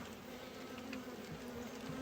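Honeybees hum steadily at an open hive during a subarctic August inspection, a close, continuous drone from many insects that holds even and unbroken throughout.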